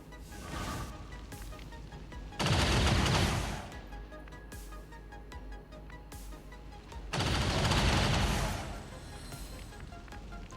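Bursts of gunfire from a Lancer enemy in XCOM 2, two loud sustained volleys a few seconds apart standing out over a steady background of game ambience.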